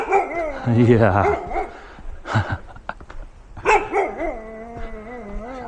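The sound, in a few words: dog barking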